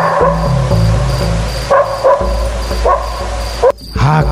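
A pack of dogs barks and yips in a village at night, loud and close, with repeated overlapping woofs and whimpers in irregular bursts.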